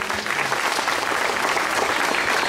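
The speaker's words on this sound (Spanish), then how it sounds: "Vamos a dar un aplauso el ciudadano Alfredo Gutiérrez Baza, presidente auxiliar de Tenango de las Flores." Loud, close audience applause welcoming a guest at an orchid expo in Tenango de las Flores, dense steady clapping from a crowd lasting the whole stretch.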